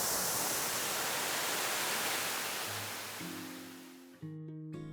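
Wibong Waterfall pours down forcefully as a broad, steady rush of water, loud and close. It fades over several seconds and gives way to sustained tonal music.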